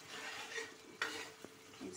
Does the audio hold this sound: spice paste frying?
yes